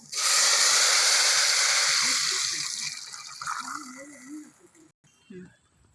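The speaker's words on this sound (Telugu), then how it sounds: "టమాటా చారు పోస్తున్నాను" Tomato rasam pours into a hot pan of fried spices with a loud hissing sizzle that slowly dies down, then a voice speaks briefly over the quieter bubbling.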